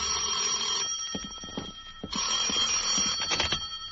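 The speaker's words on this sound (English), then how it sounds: "At 10, my phone rang." Old-time telephone bell for a 1950 radio drama, ringing loud and close in two long bursts with a short pause between them.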